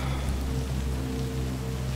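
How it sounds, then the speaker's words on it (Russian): Steady rain falling in Cyberpunk 2077, a continuous even hiss with a low hum beneath it, no voices over it. "Дождик."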